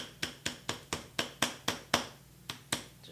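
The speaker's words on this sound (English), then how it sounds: "Just give it a couple taps." A CV axle boot on a Mini Cooper is tapped into place with a series of about ten light, evenly spaced metallic taps, close and clear with no talking.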